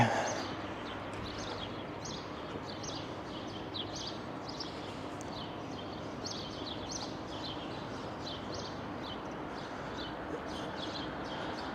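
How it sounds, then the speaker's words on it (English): Birds singing along a Toronto city street, a busy stream of high chirps and tweets throughout, moderately distant, over a broad steady hiss of background noise. "And the sounds of the birds are"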